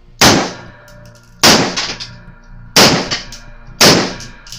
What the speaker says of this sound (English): Charge this magazine, charge this pistol, reload and test fire.